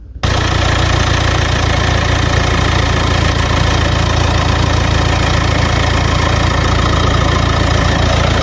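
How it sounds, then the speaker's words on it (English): A car engine runs steadily after an abrupt start, a loud, close, even mechanical drone at idle that holds without change throughout, with no talking. "It's asking me to start the vehicle, so I'll start it and get back to videoing."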